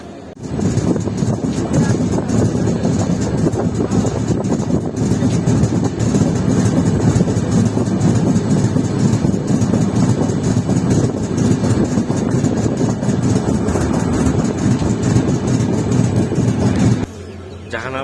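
The Jahanabad Express rumbles along the rails on the Khulna–Dhaka line, a loud, continuous clatter and drone heard close up, easing off near the end.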